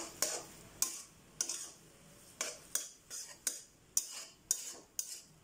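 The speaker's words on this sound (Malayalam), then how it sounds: "നമുക്കിനി നന്നായിട്ട് മിക്സ് ചെയ്യാം" Shredded Kerala porotta for kothu porotta is tossed and mixed in a pan, sharp metal spatula scrapes and clanks in a steady rhythm of about ten strokes, close and clear, with a light sizzle between them and no talking.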